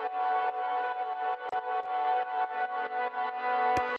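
A bright synth pad plays steadily while ghost sidechain compression dips its volume in quick, stuttering pulses following a hi-hat pattern, giving a pumping, breathing motion.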